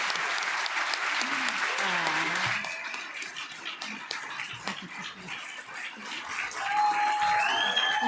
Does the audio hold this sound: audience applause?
yes